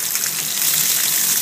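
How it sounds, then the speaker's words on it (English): Water pours steadily into a shallow tub for a bearded dragon's bath, a loud, close, continuous splashing gush with no pauses. "First, you need to pour the water to the height of their shoulders."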